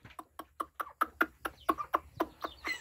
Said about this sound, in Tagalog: may mga alaga po ako ng manok